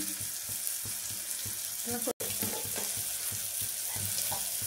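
A spoon stirs khichdi in a pan, making soft, repeated scraping strokes over a faint sizzle, close and fairly quiet.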